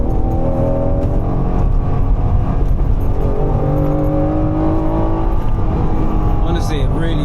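Engine of a 1991 Honda NSX held in second gear, a steady droning note that rises slowly under the wind and road noise, with a voice talking over it throughout.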